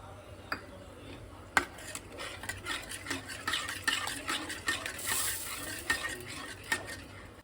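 Utensil scraping and stirring through a cooking gravy mixed with yogurt and masala for palak paneer, with scattered clinks of a spoon against the pan and a soft sizzle underneath, close by.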